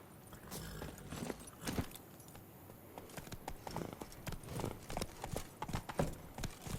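Hooves of the horse Roach clop in a quick, uneven rhythm across a game world in The Witcher 3, moderately close over a soft ambient background.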